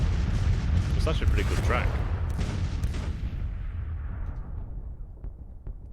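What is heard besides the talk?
artillery bombardment in the video game Grand Tactician: The Civil War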